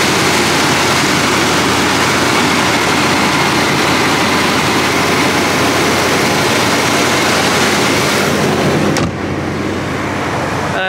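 A 1978 Chevrolet Corvette C3 Anniversary Edition with the L82 V8 and automatic choke idles steadily, a dense continuous engine rumble held close and loud for about nine seconds before a slight drop in level.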